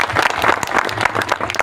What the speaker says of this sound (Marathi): ज्यांनी मदत केली त्यांच्यासाठी जोरदार टाळ्या